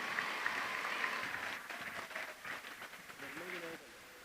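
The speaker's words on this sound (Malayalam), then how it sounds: "എല്ലാവരും നല്ലൊരു കൈയടി കൊടുക്കാവോ?" Applause from the audience at a school annual day honouring a student, faint and distant, a soft patter of clapping that swells and fades as a voice speaks over it.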